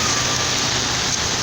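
Heavy rainstorm pours in a dense, loud, unbroken roar, close by, with no voices.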